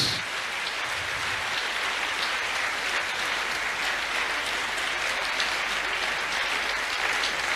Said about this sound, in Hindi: यीशु नासरी के लिए जोरदार तालियां।